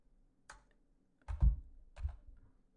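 A few quiet computer keyboard keystrokes, close and sparse, with a soft clack at first and then two heavier thumping presses, isolated against near silence.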